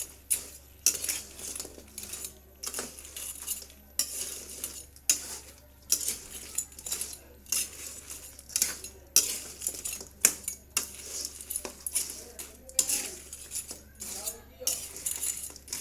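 Crabs cooking in a pot are stirred with a metal utensil, producing repeated sharp scrapes and clanks against the pot in an uneven rhythm, close and fairly loud.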